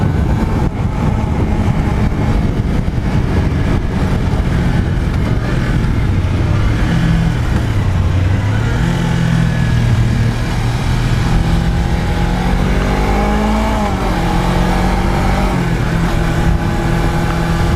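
A Suzuki GSX250R twin-cylinder motorcycle engine drones loud and close while riding, with pitch rising and falling through gear changes and heavy wind rush throughout.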